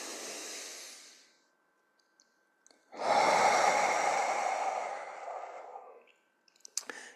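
Slow, deep breaths during a neck and shoulder breathing exercise: one long airy exhale fades out, then after a pause a strong, close, hissing inhale-exhale swells and tapers off, with no talking.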